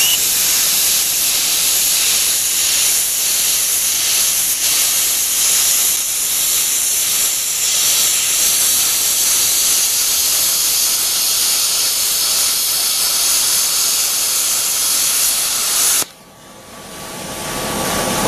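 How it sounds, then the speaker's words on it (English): A Hypertherm PowerMax 45 plasma torch in gouge mode carving out a differential spring perch, a loud continuous roaring hiss lasting about sixteen seconds before cutting off abruptly, with no talking. "So we're going to go ahead and gouge it out, use the gouge mode on the PowerMax 45"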